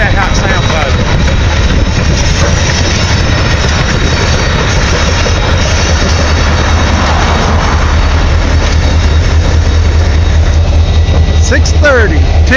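Steam locomotive 630 of the Tennessee Valley line rumbles past hauling old passenger cars, giving a loud, steady, low mechanical roar that continues throughout. People can be heard talking near the track.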